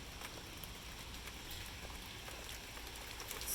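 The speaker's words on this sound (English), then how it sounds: "Watch, the rain's gonna start." Rain starting at the front of a summer storm in Tennessee, a faint, steady hiss of drops pattering on surfaces with a few sharper ticks, quiet and without talk.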